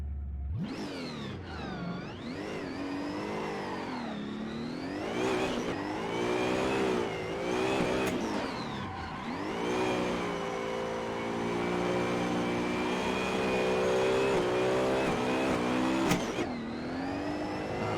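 A drift car in Assetto Corsa on a Texas FD / VDC sim-rig run revs hard, its engine note sweeping up and down through repeated throttle blips and long sustained wails.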